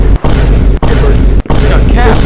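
Loud, dense bursts of video game gunfire and booming blasts fill the whole stretch, broken by three brief gaps, with voices talking underneath.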